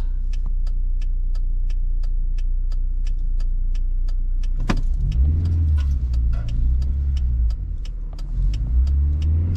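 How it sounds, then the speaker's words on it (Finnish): A car drives past on a big road, its engine rumble swelling in from a steady hum of traffic, peaking midway and fading while other vehicles keep droning; no talk. "Oottakaapa vähän se, kun tälle isolle tielle auto tulee"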